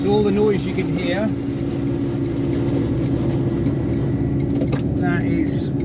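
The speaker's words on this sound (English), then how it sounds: "that is 3 cubic metres of concrete going out the back of the truck" An Iveco concrete mixer truck tips three cubic metres of concrete out the back onto dirt, a steady loud engine and drum rumble running throughout, with someone talking over it near the start and end.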